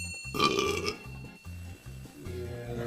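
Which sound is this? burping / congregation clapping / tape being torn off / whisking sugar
burping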